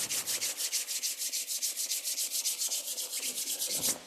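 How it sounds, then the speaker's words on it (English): Two palms are rubbed together briskly to warm them during a body-mind centering exercise, making a close, rhythmic swishing with about seven rapid back-and-forth strokes per second and no voices. "which we do by rubbing our hands till they get nice and warm"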